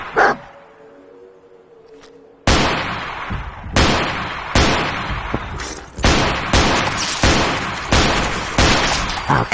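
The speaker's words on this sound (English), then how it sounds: "how many frickin' shots does it take to kill a goddamn blowfly?" Gunshots fired at a blowfly in Fallout 4: after a brief lull, a run of about seven loud, sharp reports, each with a short echoing tail, arrives at an uneven rhythm.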